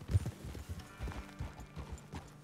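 Horse hooves clip-clopping at a steady riding pace in the video game Red Dead Redemption 2, two horses ridden side by side, the hoofbeats close and clear with a faint whinny.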